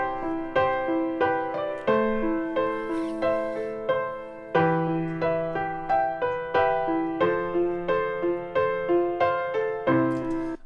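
A Logic Pro Session Player keyboard part repeats a 1-6-3-4 chord progression, with rhythmic chord stabs over sustained bass notes, a clean and steady loop played alone.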